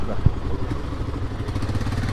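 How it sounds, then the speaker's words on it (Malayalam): Off-road motorcycles ride along a forest track near Elimbileri in Kerala, their low, throbbing engine rumble steady and moderately close, with faint voices in the background. "അത് ഓഫ് റോഡ് ബൈക്കുകാർ പോകുന്നുണ്ട് കേട്ടോ."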